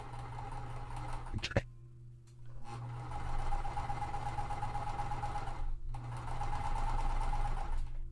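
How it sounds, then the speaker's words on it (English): A sewing machine stitches cotton quilt pieces at a quarter-inch seam in close, continuous whirring runs, pausing briefly with a sharp click before resuming its steady hum. "I'm sewing at the full 1/4 inch seam allowance"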